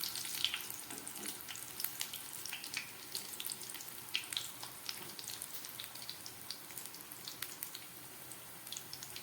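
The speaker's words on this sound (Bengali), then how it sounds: "একদম গ্যাস কমিয়ে আমি ভাজা করে নিচ্ছি।" Vegetable koftas fry gently in oil over a low gas flame, giving a soft, continuous sizzle with scattered small crackles and pops.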